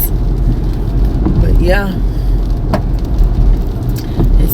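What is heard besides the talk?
rain falling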